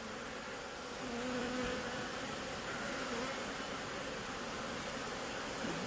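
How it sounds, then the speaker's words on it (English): A honeybee swarm gathered around a wooden post gives off a dense, continuous buzzing that fills the air, close and steady with individual bees droning past. "And I got a lot of bees back over here, a lot more bees."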